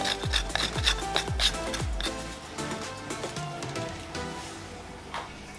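Dark chocolate is grated over cream cheese kulfi topped with fried phyllo pastry and cardamom sugar, giving a close, steady dry rasping scrape with a few soft knocks at the start.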